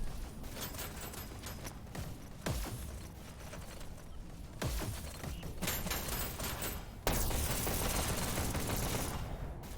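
Rapid bursts of gunfire fill a competitive VR shooter esports match, with dense overlapping shots and sharp volleys continuing throughout, loud and close with several sudden louder bursts.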